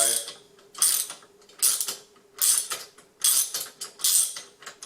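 A ratchet tightens bolts on a racing seat install, with rhythmic bursts of clicking pawl strokes repeating roughly every second, close and fairly loud.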